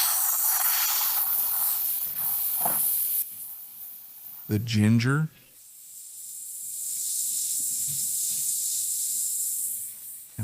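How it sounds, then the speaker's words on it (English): Chicken pieces hit hot oil in a frying pan with a loud spray-like hiss that drops, then settles into a steady sizzle; a voice speaks briefly and a short ringing tone cuts in midway. "A little oil in the frying pan."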